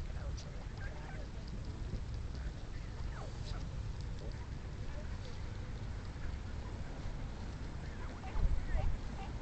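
Ducks and geese being fed bread give scattered quacks and honks over a dense, busy outdoor background, fairly close. People talk nearby.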